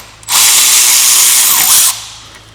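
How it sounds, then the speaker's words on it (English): A Milwaukee electric ratchet whirs steadily for about a second and a half, removing a 10mm bolt from the side of a fan on a CFMOTO Z10, close and loud, with brief clicks near the end and no talking. "we're going to use our Milwaukee electric ratchet"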